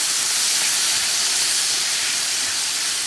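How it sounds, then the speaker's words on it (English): Water steaming and sizzling in a hot cast iron pan with bell peppers, onions and guajillo, a steady broadband hiss that runs loud and unbroken throughout. "It's gonna sizzle, but I want the flavor in there. The water's gonna steam out"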